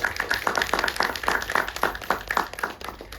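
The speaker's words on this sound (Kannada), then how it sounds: "ಒಂದು ದೊಡ್ಡ ಚಪ್ಪಾಳೆಯೊಂದಿಗೆ" Audience clapping at the first anniversary day celebration of Mars Entertainment, held at Suchithra Film City in Bangalore: a dense, steady crowd applause of many hands, fairly close and sustained throughout, with no voices over it.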